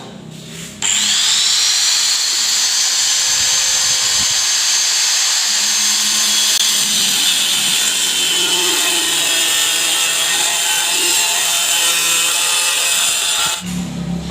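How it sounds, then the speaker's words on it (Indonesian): A handheld angle grinder cuts through a metal column, starting with a sudden loud whine that holds steady and harsh for about thirteen seconds before cutting off. "Nah, ini menggunakan gerinda tangan."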